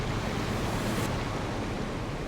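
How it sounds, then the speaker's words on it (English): In Final Fantasy XIV, water stirs with a constant, even wash like lapping waves or surf. It is a broad, steady hiss with no breaks and no voices. "Water's stirring again a bit"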